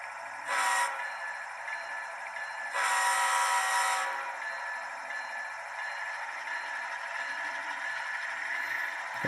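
An HO scale CN Intermountain ET44AC model locomotive runs with a steady electric hum and sounds two horn blasts, one short and one longer, all fairly quiet and close.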